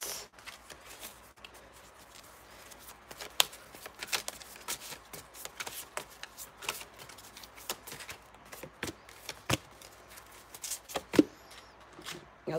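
Angel cards shuffled by hand at close range give soft, irregular riffles and slaps that come in bursts over a quiet room, with no talking.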